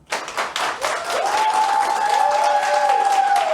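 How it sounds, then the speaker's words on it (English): A studio audience at a podcast taping in Dallas breaks into steady clapping that swells and holds throughout, with a sustained tonal hum or whistle running underneath the crowd noise. "Give you guys a round of applause."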